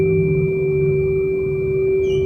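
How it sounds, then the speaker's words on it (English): A steady, pure ringing tone from a tuning fork struck and held over the top of a water-filled tube, sustained and even throughout, with a faint low hum beneath it and no voices. "hitting a tuning fork and placing it over the top"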